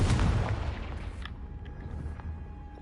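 Confringo blasting spell going off in a wizard video game: a single heavy boom right at the start, then a long, rumbling decay with faint scattered game sounds trailing behind.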